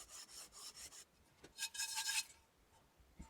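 A warped pan weighted with something heavy, rubbed back and forth across a surface, giving faint rasping scrapes in a steady rhythm followed by a louder scraping burst.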